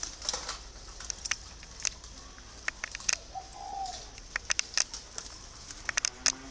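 A hand-raised spotted dove with red eyes gives a faint, brief coo amid scattered sharp taps and rustles from its cage, the ticks recurring irregularly over a quiet background.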